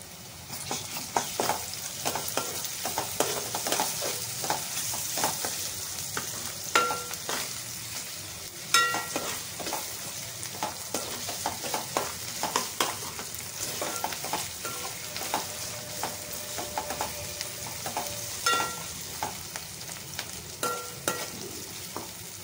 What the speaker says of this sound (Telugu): కొంచెం అల్లం వెల్లుల్లి పేస్ట్ యాడ్ చేస్తున్నా. అది పచ్చి వాసన పోయేంత వరకు వేయించుకోవాలి.